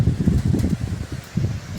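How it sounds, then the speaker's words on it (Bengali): Wind gusting through mango trees in a rural village orchard during a nor'wester storm, a low rushing roar that swells in uneven waves, loud and close with rustling. "কি সুন্দর বাতাস বাইতেছে"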